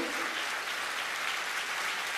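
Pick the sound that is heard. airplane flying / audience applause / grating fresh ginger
audience applause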